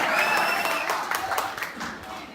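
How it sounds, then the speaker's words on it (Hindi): A college audience claps loudly in a dense, sustained burst of applause that fills the room, with some crowd noise mixed in and slowly tapering toward the end. "एक बार दोनों हाथ खोल के जोरदार ताली बजाइए।"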